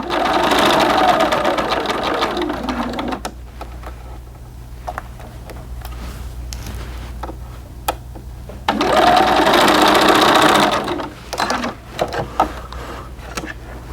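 A home sewing machine stitches doll pants fabric in two loud, steady runs with a quieter pause between them, where light handling clicks and taps are heard.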